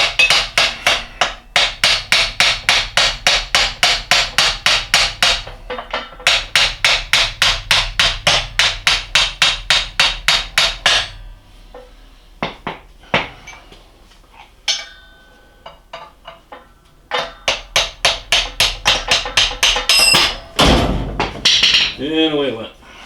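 A hammer taps repeatedly on a corroded part of a South Bend lathe during restoration, with long runs of quick metallic knocks in steady rhythm, a pause with scattered lighter hits, then another fast burst.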